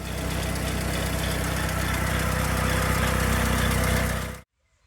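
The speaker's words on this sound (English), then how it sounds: "in the clip of the engine running before I did the compression test" A Bedford van engine idles with its electronic ignition removed. The low, even running stays close and steady for about four seconds, then cuts off abruptly.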